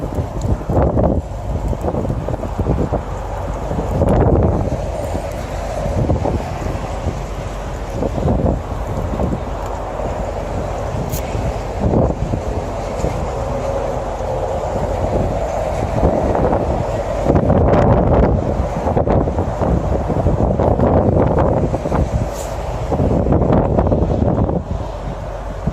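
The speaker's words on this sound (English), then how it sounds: "I got a good crosswind coming off from the north wind that's blowing in" A crosswind from the north gusts across the microphone while someone fishes on open water. The buffeting rumble is loud and continuous, swelling and easing in uneven gusts.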